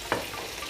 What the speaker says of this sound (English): the chicken back is over there frying